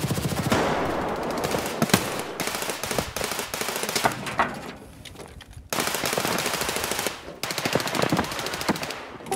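Rapid automatic gunfire from an office area in the shooter Escape from Tarkov, loud sustained bursts with brief pauses between them, no talking.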